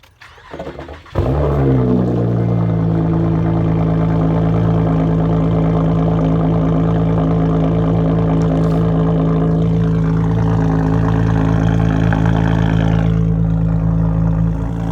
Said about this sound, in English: So here's the startup after washing.